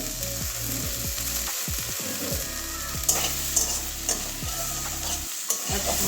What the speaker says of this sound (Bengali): এবারে ঢাকনাটা খুলে নিচ্ছি নাড়িয়ে দিচ্ছি